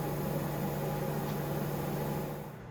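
A microwave oven runs with a steady low electrical hum and constant whirring drone throughout, fading slightly at the end.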